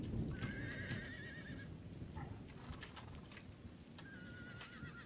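In the game Empire: Total War, cavalry horses whinny twice, at the start and near the end, over a steady clatter of hooves and low rumble.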